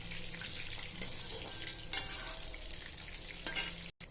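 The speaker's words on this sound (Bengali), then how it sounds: "তো এবার আমি আলুটা ভেজে নেব।" Potatoes frying in oil in a pan, a steady close sizzle and crackle with occasional stirring clinks.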